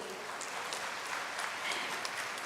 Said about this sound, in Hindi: हम चाहेंगे प्रदेश की जनता की ओर से एक बार जोरदार तालियां हो जाए माननीय मंत्री जी के लिए